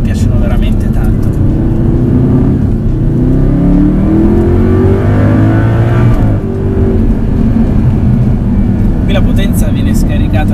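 A used Audi R8 with an all-wheel-drive system accelerates hard from inside the car, the engine rising in pitch, dropping sharply at a gear shift, then climbing again, loud and close.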